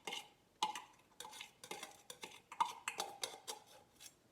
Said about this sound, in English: I just scrape it all out with the knife.